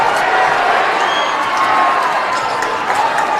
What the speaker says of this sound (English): the Bud Castle Gymnasium crowd goes crazy